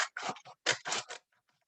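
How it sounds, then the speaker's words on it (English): Scissors make several crisp, crunchy snips through a stiff paper plate in quick succession, close up, then go quiet. "I'm going to cut this paper plate in half."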